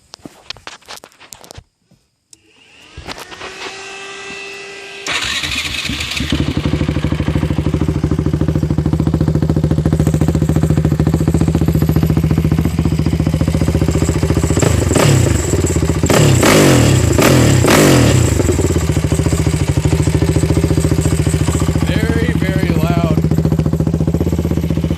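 A 2006 Honda TRX450R quad fitted with an HMF exhaust and a Dominator 2 rear axle starts after a few clatters, then idles loud and close, with several sharp revs in the middle and a steady engine drone throughout.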